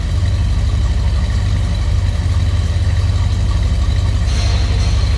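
A 1972 Buick Riviera's 455 V8 idles with a steady, deep rumbling burble, loud and close, unbroken for several seconds.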